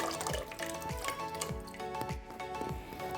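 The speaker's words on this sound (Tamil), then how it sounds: "அதுலேருந்து கொஞ்சோண்டு தண்ணியுமே இதில் ஆட் பண்ணிட்டோம்" Water poured into soaked rice and lentils while making ven pongal gives a series of soft, wet drips and splashes in a steady rhythm, close by, with no talking.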